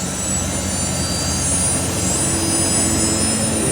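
A steady, loud rotor drone with a constant engine whine, filling the whole stretch without a break.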